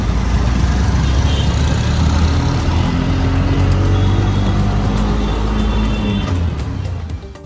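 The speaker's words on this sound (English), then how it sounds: "The busyness, the beeping, the dodging of traffic, the sounds are all part of the classic Indian experience" Dense, loud road traffic on a busy Bangalore street rumbles steadily, engines and tires blending into a constant roar with occasional higher tones of beeping horns.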